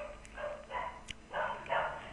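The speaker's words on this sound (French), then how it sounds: "mes chiens crient" Dogs barking indoors in a few short yips and woofs, faint and somewhat distant, with a couple of small clicks between them.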